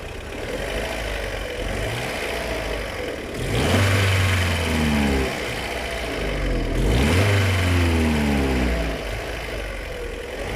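An Opel Vectra A engine idling while warming up, then revved twice, each rev rising in pitch and settling back down; loud and close, no voices.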